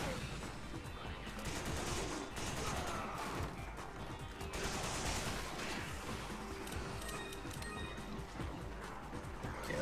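Machine gun fire in Resident Evil 5 Mercenaries on the Village stage, a dense and continuous barrage of shots that rattles on for the whole stretch. A voice is faintly present underneath.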